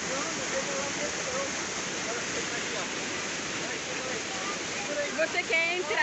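Constant broadband rushing of the ASFRAMA waterfall on BR-174 fills the clip at an even level, with a person's voice rising over the water near the end.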